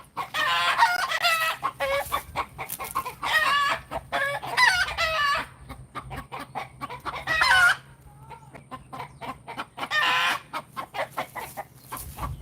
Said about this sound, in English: Hold on, I'm gonna go get some of these chickens in the corner.